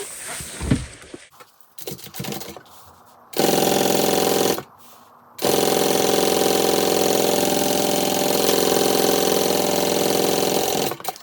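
A sewing machine stitches the bottom seam of a handbag: after some handling rustles and short starts, it runs in a loud, steady mechanical whir for a second, pauses briefly, then hums continuously for about six seconds.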